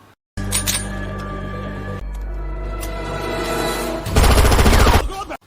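Pistol gunfire in a Bollywood action film scene: loud, dense shots and blasts over music and sound effects, with a heavier burst of fire near the end and no clear talking.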